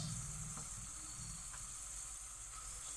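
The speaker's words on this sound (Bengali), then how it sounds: "এবার আমি এটাকে ফুটতে দেব।" Curry simmering in oil with chicken and coriander nearby, a steady, quiet sizzle and hiss with soft bubbling throughout, no voices.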